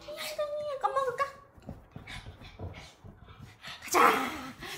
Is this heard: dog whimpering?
yes